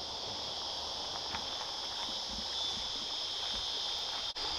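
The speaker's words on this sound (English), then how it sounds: "The mighty Hunter Valley River." Steady rushing flow of the Hunter Valley River at a campsite after heavy overnight rain, a constant wash with insects or crickets droning high above it and a few soft nearby footsteps.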